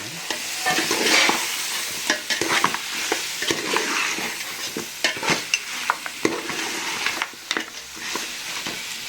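Mutton biryani masala stirred in a hot pan, a continuous sizzle with repeated scraping and clattering strokes of the spoon, close and fairly loud throughout.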